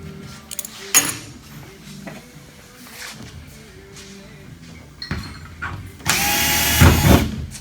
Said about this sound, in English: The more holes we put in it, the lighter it'll be.